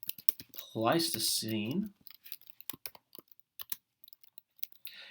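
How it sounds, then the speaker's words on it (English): Clicky keystrokes from a computer keyboard tap out in quick irregular bursts at close range, with a voice speaking over the opening typing and the keys continuing alone afterward. "So I go to my worksheet. I type in"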